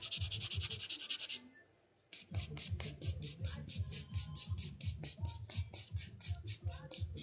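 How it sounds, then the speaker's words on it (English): A smoothie buffer rubs back and forth across the top surface of an acrylic nail on a practice hand, producing close, rhythmic scratchy strokes, one long pass, a brief pause, then a rapid run of short strokes. "now I'm taking my smoothie buffer and buffing the whole top surface of the nail"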